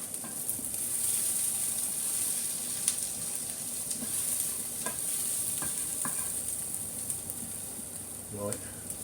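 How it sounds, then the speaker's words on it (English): Dried thyme is stirred into a cooking pot over a gentle background sizzle, with soft scraping strokes and a few light knocks of the spoon against the pot, repeated at an unhurried rhythm. "and then we stir again"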